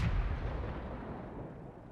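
A KV-1S tank cannon firing in a video game, a single heavy boom at the start followed by a long, rumbling decay that fades over about two seconds.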